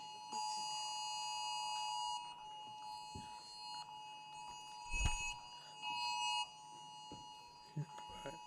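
Mobile phones going off during a city council meeting, sounding as steady electronic beeping and alarm tones held for several seconds, fairly faint in a quiet room with a few thumps and shuffles.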